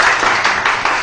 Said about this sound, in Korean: 박수 쳐줘. 박수 영배 팀.